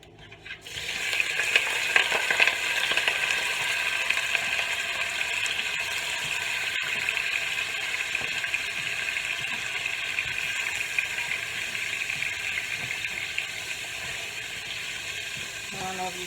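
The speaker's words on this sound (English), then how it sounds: "I'm fixing to throw the pork into this pan, or this pot." Loud, steady sizzling and crackling of pork steak frying in hot oil in a pot, starting abruptly after a brief quiet moment and continuing throughout with a dense hiss.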